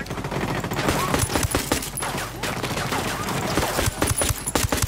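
Dense, sustained automatic gunfire and rapid shots fill a Ghost Recon Wildlands firefight. The loud bursts overlap almost without a break and a voice talks faintly beneath them.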